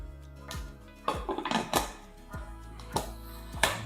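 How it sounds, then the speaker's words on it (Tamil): Metal clanks and knocks of a pressure cooker lid being set and closed over simmering country chicken biryani, several sharp clatters spread over a few seconds in a quiet kitchen. "இப்போ வந்து குக்கர் மூடிய மூடிடலாம்"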